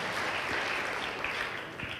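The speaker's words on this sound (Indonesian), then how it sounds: "Berikan tepuk tangan ya Maria." Congregation in a church service applauding a woman named Maria during a sermon, a dense steady wash of many hands clapping at moderate distance, with no voices rising above it.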